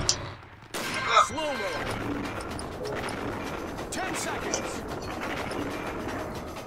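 Gunfire in the hunting video game Cabela's Dangerous Hunts 2011, a sharp shot followed by a stretch of game noise, with players talking over it.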